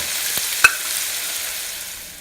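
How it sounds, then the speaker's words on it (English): Sliced onions fry in hot oil as they begin to brown, giving a steady close sizzle and one sharp clink of a spoon against the pan. The hiss fades gently toward the end, with no one speaking. "Mix nicely and let them fry. Little bit browning when it starts"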